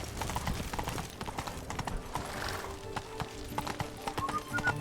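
Hooves of Geralt's horse Roach clip-clopping at a gallop in The Witcher 3, a rapid steady rhythm of close, crisp hoofbeats alone.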